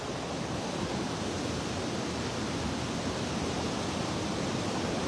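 A small stream of water flowing in Kashmir makes a steady, close, broadband rushing hiss that holds even and unbroken throughout, with no talking.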